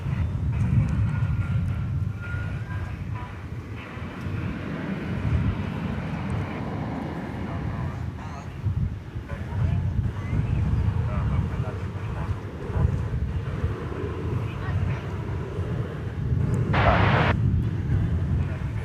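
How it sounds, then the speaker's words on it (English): A United Boeing 737-800 airliner, flight 2655 bound for Denver, rumbles steadily at DFW Airport after dark, a broad low roar mixed with wind buffeting the microphone, with a brief hiss near the end. "There's a United 737-800. It's flight 2655. It's going to Denver, Colorado"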